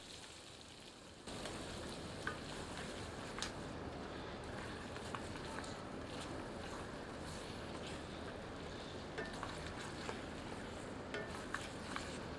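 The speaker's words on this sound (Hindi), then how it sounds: "इसे तेल के साथ अच्छे से मिलाकर 5 मिनट मीडियम आंच पर भूनते हैं।" Goat curry fries in hot mustard oil in a kadhai over medium heat. After a quieter opening, a steady sizzle begins, with occasional small pops and stirring clicks, heard close and alone.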